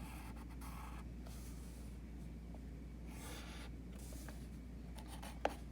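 A pen or pencil scratches across paper while drawing angles for a geometry construction of congruent triangles, faint intermittent strokes in short bursts over a low steady hum, without talking.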